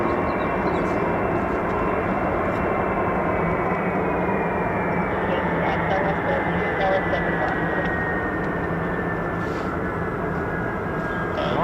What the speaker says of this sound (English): Listen to those beautiful Pratt & Whitney huge turbofans.